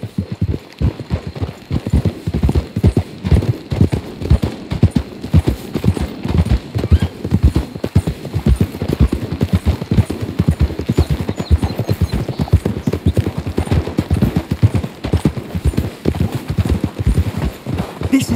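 Horse hooves clip-clop steadily in Red Dead Redemption 2, a close, continuous run of even thuds from more than one horse that carries on throughout without a break.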